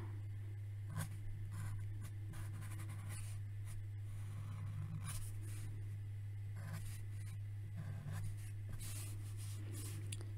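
A pencil sketches a Transformers drawing on paper, giving faint scratchy strokes in irregular bursts over a steady low electrical hum, close and quiet with no talk.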